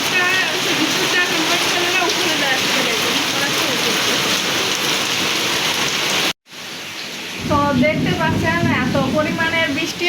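Heavy rain roars steadily and loudly during a lightning storm, breaking off for a moment before pouring down again, with faint voices beneath the downpour.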